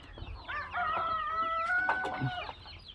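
Hens and chicks on a farm cluck and call, with one drawn-out, crowing-like call in the middle, close and moderately loud with no talking.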